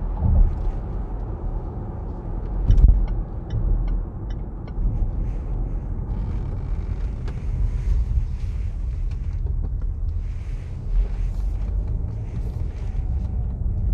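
A Range Rover P400e PHEV Vogue plug-in hybrid climbs a slope off-road. It produces a low, subdued rumble with light wind buffeting and a few faint knocks and clunks, staying fairly quiet throughout.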